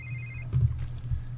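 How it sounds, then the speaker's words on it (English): A phone rings in The Sims 3 life-simulation game: a short, faint electronic ring heard briefly against a low hum of game ambience, with no talking. "Go away, phone."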